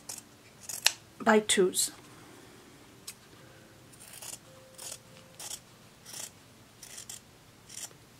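Scissors snipping through fabric half square triangles for a quilt block, a handful of close, crisp cuts clustered early then spaced single snips, with brief talk at the start.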